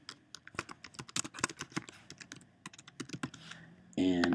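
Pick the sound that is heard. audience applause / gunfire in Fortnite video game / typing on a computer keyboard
typing on a computer keyboard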